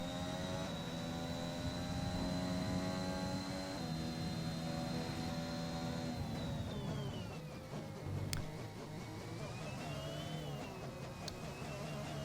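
A racing car engine held at low RPM in an Emilia Romagna Grand Prix racing video game, a steady droning hum with a whining tone that later bends downward, fairly distant and continuous.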